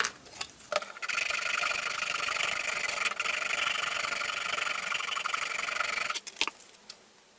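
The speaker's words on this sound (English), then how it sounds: "after a little bit of fine tuning and gentle filing, I've managed to get the sort of fit actually pretty snug there" Filing a plastic part from a vintage Transformers Optimus Prime toy, a close, continuous rasping stroke runs for about five seconds, then stops, followed by a few light taps.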